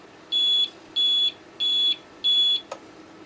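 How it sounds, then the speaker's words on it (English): Four evenly spaced electronic beeps, each about a third of a second, sound from an APC 3000VA 48V server UPS close by, followed by a faint click. "It appears like it's going to continually beep for us."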